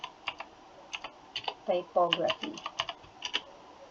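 Fingers tap out a burst of irregular keystrokes on a computer keyboard, fairly close, with a few quick clusters. A voice can be heard briefly in the middle.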